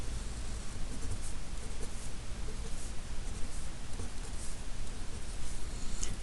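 Pen or pencil sketching vectors by hand on paper, a steady scratchy scraping that runs for several seconds, moderately close with a faint hiss behind it.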